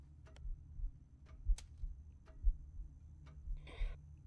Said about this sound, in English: I can hear the clock ticking.